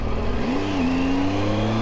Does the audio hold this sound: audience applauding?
no